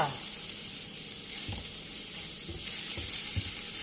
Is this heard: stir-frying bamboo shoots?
yes